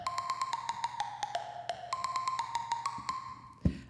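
FM8 ping percussive synth hit with reverb and ambience, a rapid string of bright pitched plucks ringing into a wash of space, steady and close, ending on a sudden low thump.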